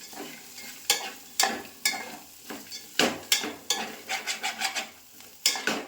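A spatula scrapes and stirs roasted tapioca in a pan, giving repeated loud scraping strokes in an irregular rhythm with a light sizzle underneath, close by and with no voices.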